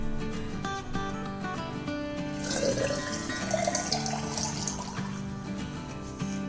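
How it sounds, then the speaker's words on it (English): Water runs faintly from a tap into a bottle for a few seconds, beneath steady background music. "now I'm going to fill it with some water"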